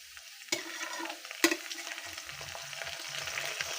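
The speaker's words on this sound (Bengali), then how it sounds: "এটা আমি তেলের মধ্যে হালকা করে ভেজে নেব বাদামি কালার করে।" Ginger garlic paste fries in hot oil while preparing a chana dal dish, a steady close sizzle broken by two sharp clinks of a spoon against the pan and soft stirring scrapes.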